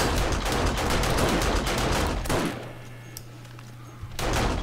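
Automated turret guns fire during a horde night in 7 Days To Die (Darkness Falls), a loud dense burst of rapid shots, a brief lull with a low hum, then another heavy burst at the end.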